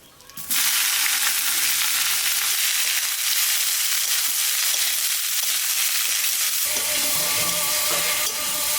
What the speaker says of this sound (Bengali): পেঁয়াজটা একটু লাল লাল করে ভেজে নিলাম